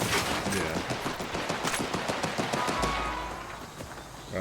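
Rapid bursts of gunfire from the Borderlands 4 video game in co-op play, dense and continuous shots rattling in quick succession, fairly close and loud throughout.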